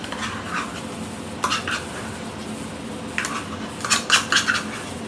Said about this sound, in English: Just going to give that a little bit of a stir here.